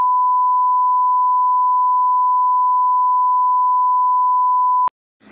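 A phone gives one steady, loud electronic beep for about five seconds as it shuts off, stopping abruptly, followed by faint noise.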